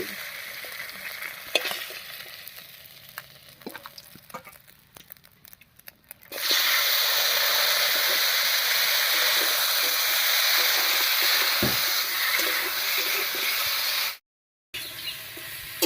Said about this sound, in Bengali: নামিয়ে এই তেলের মধ্যে পটলটা ভেজে